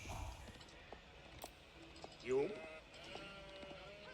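Sheep bleat once in an Age of Empires 4 ranked match, a short wavering call midway through, over quiet game ambience and soft clicks.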